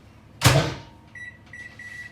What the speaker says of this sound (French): On met ça au micro-ondes.